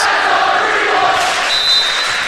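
A crowd cheers and shouts throughout at a high school girls' volleyball match, loud and sustained in an indoor gym, with a whistle-like tone rising near the end.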